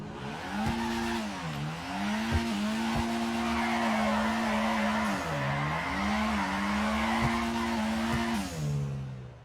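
A car drifting in GTA 5, engine droning at steady pitch with repeated dips as revs shift, overlaid by continuous tire squeal and skidding, loud and close with no talk.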